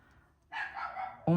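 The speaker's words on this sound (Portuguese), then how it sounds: "esse é o cachorro da vizinha" A neighbour's dog barks nearby in a home setting, a short burst of rough yips and barks that starts abruptly and carries on for about a second.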